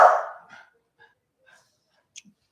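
A dog gives one loud, close bark at the start, trailing off, followed by a few faint scattered yips and small noises in an otherwise quiet room.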